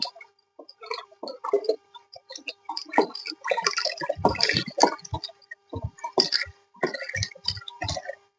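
A homemade liquid soap mixture is stirred slowly in a pot, giving irregular close clinks, taps and wet sloshing bursts that come in uneven clusters with brief quiet gaps between them.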